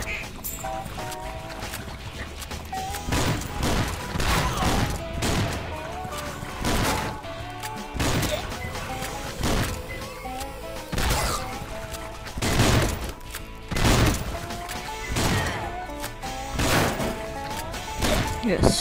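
Repeated shotgun blasts fire in the swamp-defense video game Swamp Attack, loud broadband bursts every second or two over a steady game soundtrack with splashy creature effects.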